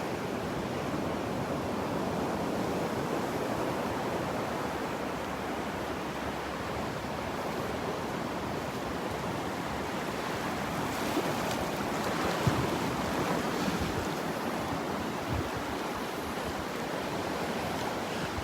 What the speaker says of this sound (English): The wave got it.